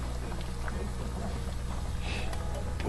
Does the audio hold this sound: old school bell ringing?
no